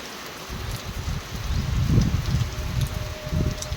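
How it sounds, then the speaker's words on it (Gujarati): Rain falls steadily outdoors in a continuous, fairly loud patter and hiss that swells slightly in the middle, with no voices. "વરસાદ ચાલુ છે"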